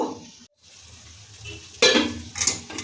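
Small mourala fish with chopped coriander cooking covered on low flame in a pan, giving a soft continuous sizzle that briefly cuts out, then louder bursts of frying crackle and stirring clatter near the end.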